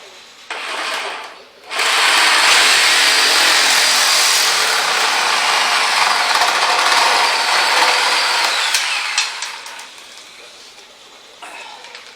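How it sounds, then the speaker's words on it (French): A reciprocating saw with a metal blade buzzes loudly and steadily through a 100 mm pipe for several seconds, harsh and rasping, then winds down. "je vais essayer de couper à la scie sabre mon tuyau en 100 avec une lame métal"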